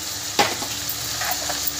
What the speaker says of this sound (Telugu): ఇది మంచిగా ఫ్రై అవుతుంది ఉల్లిగడ్డలను